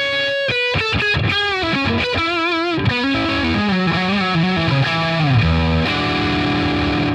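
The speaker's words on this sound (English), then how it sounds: "Let's hear the neck pickup now." A distorted Charvel Pro-Mod SO-CAL electric guitar plays a rapid run of notes that descends into lower sustained tones, with a warmer, rounder neck pickup character, loud and unaccompanied.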